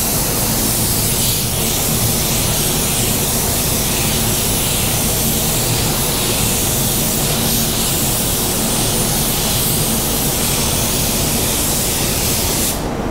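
A spray gun lays a blend coat of red car paint using extra slow reducer, a loud continuous hiss of atomized paint that runs unbroken throughout.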